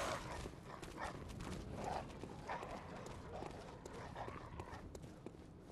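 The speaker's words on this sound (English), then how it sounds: "There's a horse?" Horse hooves clip-clop steadily through a dark, murky game soundscape in Bloodborne, moderately close and continuous with no talking over them.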